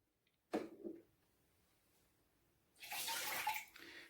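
Water spilling and splashing from a leaking Nespresso Krups Inissia coffee machine, with a short gush near the start and a louder, sustained pour toward the end.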